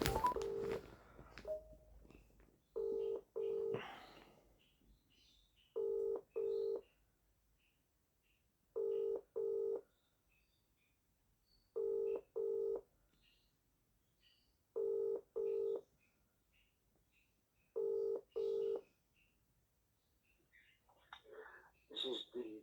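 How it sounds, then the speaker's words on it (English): Dual-tone telephone keypad beeps sound as a call is placed, short paired tones repeating at regular intervals over a quiet line, clear and moderately loud with faint background noise between. "I'm going to try giving call to Mr. Graeme Kenna."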